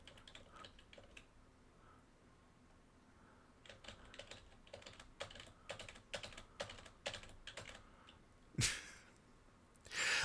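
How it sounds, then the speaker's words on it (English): Two computer keyboard keys are tapped alternately while playing Dino Walk Simulator, giving a clopping rhythm like coconut-shell hooves. Quiet, close, fairly steady clicks come in bursts, ending with a couple of louder rustles or breaths. "my method of using the two keys very much sounds akin to the coconuts from Monty Python and the Holy Grail"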